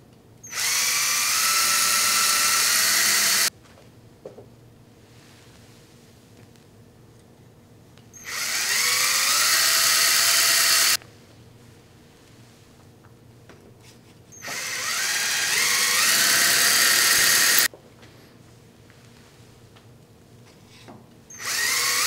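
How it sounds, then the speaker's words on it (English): A power drill bores 5 millimeter pilot holes for a lathe readout kit in three loud bursts of a few seconds each, with quiet pauses between, its pitch rising as each hole is bored. "Okay, so let's drill those holes."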